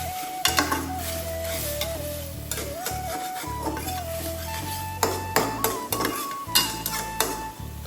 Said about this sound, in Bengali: মশলাটাকে খুব ভালোভাবে কষিয়ে নিতে হবে